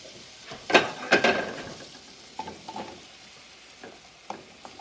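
Mushrooms going into a hot pan for Fire Hot Cheeto chops, with a couple of loud sizzling bursts and stirring scrapes up front, then quieter intermittent sizzles and small clinks.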